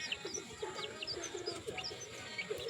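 Chabo bantam hen brooding her chicks at night, with soft, close peeps and chirps from the chicks and low clucking coos repeating over faint background hiss.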